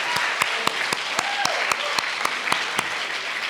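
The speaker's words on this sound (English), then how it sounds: "I would like a large round of applause for David Neft" Audience at a community awards ceremony breaks into a brief burst of clapping, dense and close, with individual hand claps standing out.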